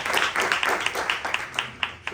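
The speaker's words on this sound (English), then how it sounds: "Big round of applause." Brief applause at a panel discussion on product and design in Abu Dhabi, a scattering of individual claps in a quick irregular rhythm from a modest audience, lasting only a couple of seconds.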